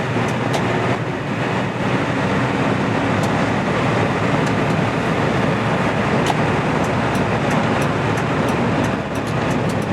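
Hyundai Porter 2 double cab automatic truck cruising on a highway at 90 to 100 km/h, a steady, loud broadband road and wind roar with engine drone and occasional faint clicks, no talking.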